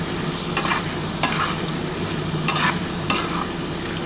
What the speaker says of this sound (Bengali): খুব ভালো করে কিন্তু এই মশলাটা কষাতে হবে।